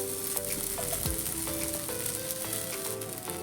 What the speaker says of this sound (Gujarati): હવે આને આપણે ફેરવી લઈશું તબેથાની મદદથી આપણે એને ફેરવી લઈશું